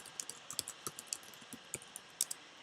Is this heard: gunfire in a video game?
no